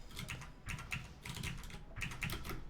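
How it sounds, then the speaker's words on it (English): Quick paired keystrokes on a computer keyboard during fast Dustforce DX platforming, tapping in short bursts of double presses, close and fairly quiet, with no voices. "If you hear like double taps on my keyboard, I'm pretty much just ledge canceling"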